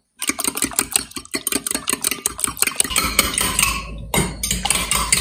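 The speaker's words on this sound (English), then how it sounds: "I'll just get a fork and stir that up" A fork stirs fresh milk into eggs in a bowl, sounding as rapid, rhythmic metallic clinks and scrapes, close and loud, that blur into a continuous whisk before a short pause and a final burst.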